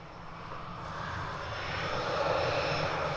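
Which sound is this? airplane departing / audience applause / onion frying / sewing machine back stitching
airplane departing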